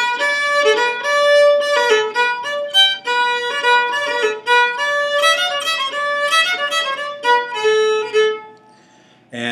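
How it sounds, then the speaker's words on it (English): Angeline the Baker melody played alone without drones, a bright plucked string tune of quick distinct notes in a steady rhythm, clear and up close, fading out at the end. "if you just played the melody of Angeline the Baker without the drones"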